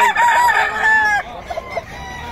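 A Boston White rooster at a market gives a single clear crow up close, tailing off into a few soft clucks against a low background murmur.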